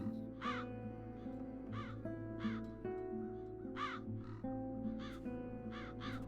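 Crows caw repeatedly in the video game The Dark Eye: Chains of Satinav, harsh calls in clusters of two or three over a sustained musical background, fairly close and prominent.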